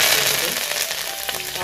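Fenugreek, dried red chillies and curry leaves tempering in hot oil for sambar, a loud dense crackling sizzle with a few sharper pops, close and brief.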